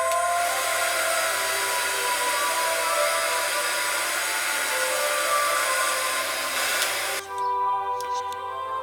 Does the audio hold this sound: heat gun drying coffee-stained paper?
yes